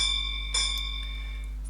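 Railway signal box block bell at Ford, Sussex giving a single clear ring that decays slowly, heard close against a steady low hum, with a faint second tap afterwards.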